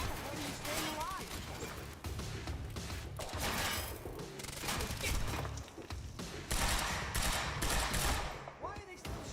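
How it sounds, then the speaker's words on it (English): Dense automatic gunfire and rapid shots from the video game Quantum Break, loud and continuous with crashes and mechanical clatter, while voices talk over the shooting throughout. "Why are they still shooting?"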